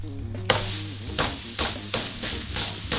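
A formed burger patty drops onto a hot griddle with a sharp hit, then sizzles steadily, with scraping and pressing sounds recurring in a loose rhythm, close and loud, no talk.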